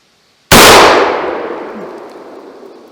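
A single loud rifle shot fired at an off-grid cabin in fall, a sharp close crack followed by a long echoing decay that fades over a couple of seconds, with no voices.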